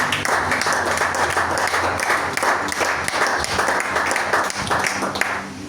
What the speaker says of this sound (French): Acclame la parole de Dieu avant que nous le continuions.